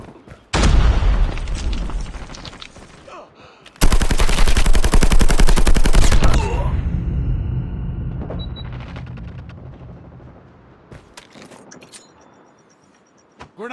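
A grenade explosion and gunfire in the mobile shooter game Call of Duty Mobile, loud rapid bursts of automatic fire, a heavy blast with a long decaying rumble, then fading to quiet with a few faint pops.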